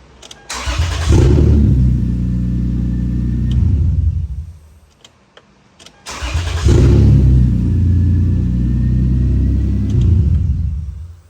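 A 2003 Lexus IS 300 engine cranks, catches and settles into a loud idle, cuts off, then starts again twice in quick succession, close and alone with no talking.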